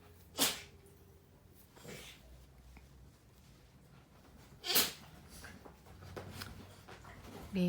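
A pet sneezes indoors on a cool morning: two sharp, fairly close sneezes several seconds apart, with soft snuffly breathing between them in an otherwise quiet room.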